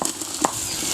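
Chopped tomatoes sizzle and fry in hot oil in a pan with browned onions, green chilies and ginger-garlic paste for a village-style mutton head gravy, a steady close crackle with a brief louder stir.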